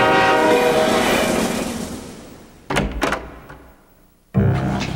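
Movie train sound effect: a loud blaring train horn fading out, then heavy rumbling rail thunks and clatter returning in bursts, with no voices.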